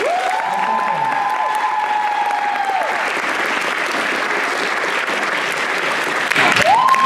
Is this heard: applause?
yes